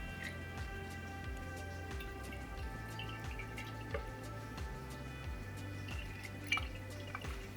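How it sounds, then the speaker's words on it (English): Strained wheatgrass juice dripping in a kitchen, soft repeated drops at an even pace over a steady low background hum, near and faint, with no speech. "So now back to straining the juice."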